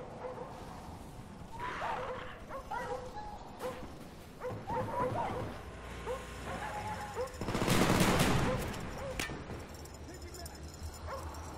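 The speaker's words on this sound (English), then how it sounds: "Dogs incoming." Attack dogs bark and growl amid bursts of gunfire in Call of Duty: Black Ops multiplayer, repeated barks at moderate distance, with a loud burst of shooting or explosion midway; a voice speaks briefly.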